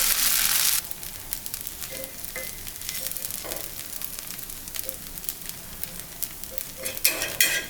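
Tomato dosa batter cooks on a hot pan with a soft, continuous sizzle and faint crackle, starting with a louder hiss as the batter hits the pan.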